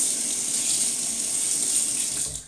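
A tap runs in an even, close gush as a face and razor are rinsed after a shave, then tapers off at the very end.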